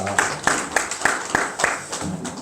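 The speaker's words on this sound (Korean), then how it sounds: "하나님께 영광의 박수를 드리도록 하겠습니다" Clapping in a church congregation, offered as applause of glory to God during an online worship service, with sharp, evenly spaced hand claps standing out over a soft room hum.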